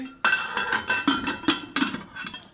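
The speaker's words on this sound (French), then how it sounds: "Allez, je remets le couvercle et je laisse cuire environ 10 minutes." A metal lid clatters back onto a pot of chorba, several sharp clinks and taps in quick irregular succession, close and fairly loud with no talking.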